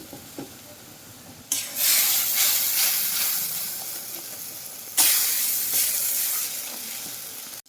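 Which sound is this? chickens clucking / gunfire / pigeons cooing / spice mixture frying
spice mixture frying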